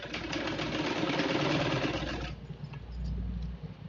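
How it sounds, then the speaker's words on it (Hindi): A sewing machine running a straight seam on a small fabric pouch for holding an Aadhaar card, bank copy or passport photos, with a fast continuous whirring and needle rattle that slows and eases near the end. "अब सीधी सिलाई लगाएंगे"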